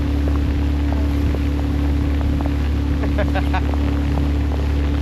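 An afternoon cruise boat motors steadily down the Kinabatangan River in Malaysia, its engine droning as a constant low hum, with faint chirps and knocks scattered over it.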